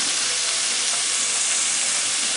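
Onions frying in a pan give a steady, dense hiss and sizzle that holds at an even level throughout, close and continuous, with no voices.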